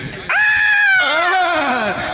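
A person lets out a loud, sustained scream lasting nearly two seconds, shifting pitch midway and trailing off into a wavering wail.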